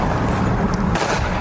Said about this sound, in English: That sounds like gunshots.